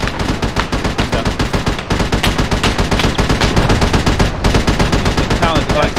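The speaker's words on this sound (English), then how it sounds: "Help! Someone's shooting." Continuous automatic gunfire in Arma at a gas station on Tanoa, loud, close rapid bursts with only brief pauses, with a voice faintly mixed in.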